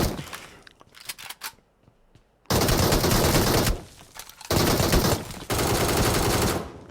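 Automatic gunfire in the mobile battle royale game PUBG Mobile, scattered sharp shots at first, then loud sustained bursts of rapid fire broken by short gaps, close and dominant.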